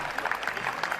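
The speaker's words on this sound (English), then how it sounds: "Veterans were showered with applause in Doylestown, Pennsylvania." A crowd applauds veterans at a Memorial Day gathering in Doylestown, Pennsylvania, a steady patter of many hands clapping at moderate distance, dense and even for its short length with no distinct voices.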